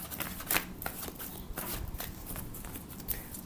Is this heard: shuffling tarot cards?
yes